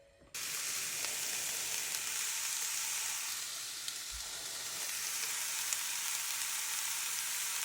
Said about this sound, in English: got some eggs, mushrooms, onions, and peppers. So we're gonna fry them up